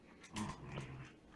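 A Shiba Inu puppy gives a short, close whimpering growl, a single breathy vocal burst with a faint whine that quickly fades, with no talking.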